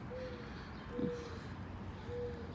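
Faint, low cooing notes from a mourning dove, three soft calls spread apart over quiet outdoor background noise.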